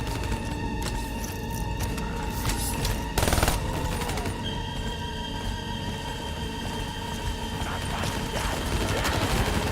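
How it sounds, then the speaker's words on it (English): Light machine gun in Call of Duty: Black Ops III firing in short repeated bursts amid steady game ambience, with one sharper louder blast standing out briefly. "3-round burst, LMG."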